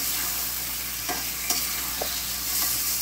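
Fish heads sizzle steadily in hot oil with fried cumin and coriander spice paste, with a few scraping stirs of a spoon standing out over the constant frying hiss.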